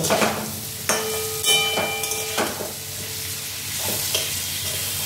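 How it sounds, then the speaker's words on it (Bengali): Three whole green chillies fry in hot oil in a pan, a loud steady sizzle broken by several clanking stirs and scrapes of a utensil against the pan. "এই যে 3টে কাঁচা লঙ্কা দিয়ে দিলাম, এটা ভাজা ভাজা হবে"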